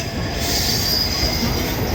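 A train runs through Shibuya station in Tokyo, its wheels letting out a loud, steady metallic squeal over the rumble of the cars, close by and continuous with no talking.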